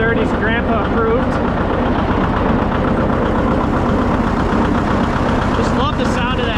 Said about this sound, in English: Just love the sound of that engine.